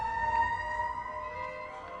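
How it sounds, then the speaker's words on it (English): An emergency vehicle siren passes by outside with a steady, loud, sustained wailing tone over low traffic rumble. No speech is heard. "of course the siren's going by right when I'm starting the video"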